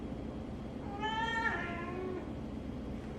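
A single drawn-out meow from a hungry cat before feeding, fairly faint, rising and falling over a steady background hiss.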